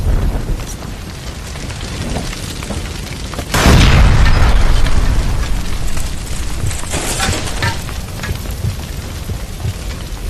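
A gas line explodes in the LA Noire video game, a sudden loud boom with a broad blast about a third of the way in, leaving dense roaring rumble and clatter that lingers for several seconds.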